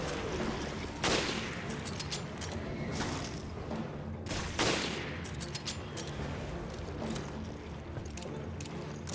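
Gunfire in Resident Evil Revelations, steady dense crackling with two louder bursts standing out, set against a constant noisy background.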